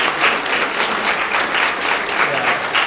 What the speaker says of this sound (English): please give them a round of applause for their help in